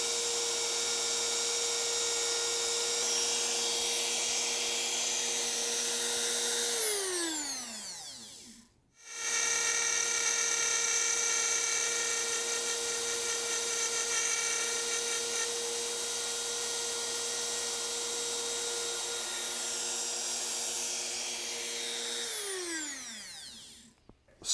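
An electric router cuts a pickup cavity slot into a guitar body with a loud, steady high-pitched motor whine. It winds down to a stop, restarts after a brief silence, runs on steadily, then spins down again at the end.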